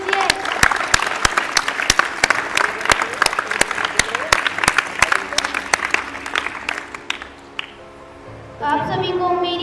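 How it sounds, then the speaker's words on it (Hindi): Audience claps welcoming a student at a Teacher's Day school event; individual sharp claps ring out in a loose, fairly sparse rhythm, fading out before a voice and music begin near the end. "कृपया इसका तालियों से स्वागत कीजिए।"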